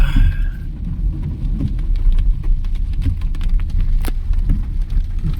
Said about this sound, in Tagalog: Maulan pa.